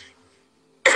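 A single sharp cough or throat clear bursts out loudly after a near-silent moment, with no talking.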